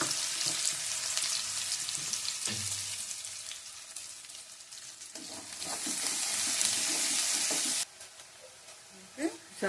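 Chopped onions fry in a pan for crab curry, a close, continuous sizzle that swells and grows louder before dropping off suddenly, with a few stirring knocks near the end.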